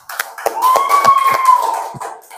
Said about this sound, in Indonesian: Bagus sekali, beri tepuk tangan.